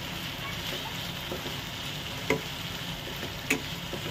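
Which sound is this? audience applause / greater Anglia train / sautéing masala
sautéing masala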